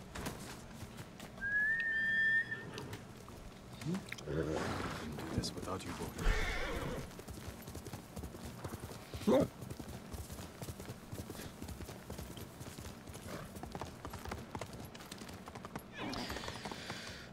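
Horse hooves clop and a horse neighs briefly early on in the video game Ghost of Tsushima, mixed with whistling and game ambience over a long stretch with scattered thumps.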